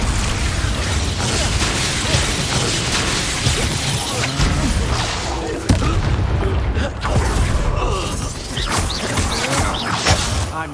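An Expulso explosion spell in a fantasy wizard-school game sounds as loud, dense magical bursts and crashing booms over a constant roar of battle effects and mechanical clatter, with no gaps throughout.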